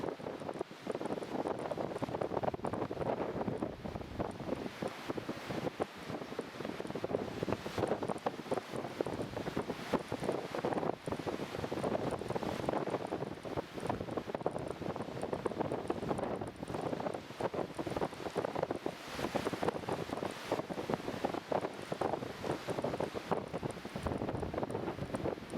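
Strong wind buffets the microphone at Newcastle International Airport, a steady, roaring gusty rumble with repeated thumps and no clear voices.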